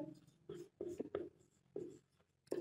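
Pen or marker writing on a board during a Hindi-language vector algebra class, a few scratchy strokes in short bursts, with a teacher talking over them throughout.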